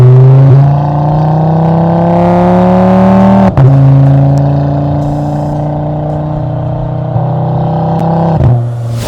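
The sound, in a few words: Audi RS3 engine revving with Tone Exhaust system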